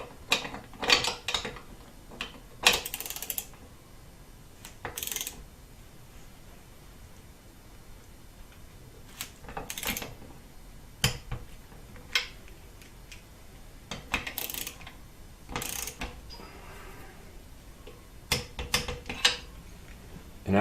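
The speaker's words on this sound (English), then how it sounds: "I think I'm ready to torque in this fuel rail" A torque wrench tightens the fuel rail bolts on a 2013 Subaru STi, giving a series of close, sharp ratcheting clicks in irregular bursts separated by quieter pauses of handling noise.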